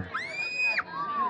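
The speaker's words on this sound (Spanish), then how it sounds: "¿Dónde está el grito de la muchachada?" A crowd of young people shouts and whoops at a village agency tournament in San Isidro Laguas, Oaxaca, with a loud sustained high cry rising above the noisy, close crowd.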